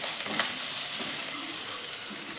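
Poppy seed paste with ginger and a splash of water sautéing in a pan for aloo dum, a soft steady sizzle with a few light stirring scrapes, close and fairly quiet, no voices.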